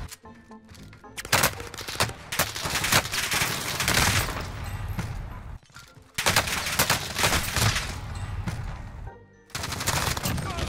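Sustained gunfire in the video game Warzone on the Verdansk map, with loud, rapid automatic bursts running almost continuously and breaking off for brief pauses.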